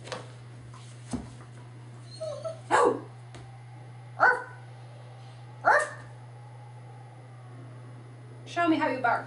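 A dog gives several short, sharp barks spaced a second or two apart over a steady low hum, with a few softer yips between.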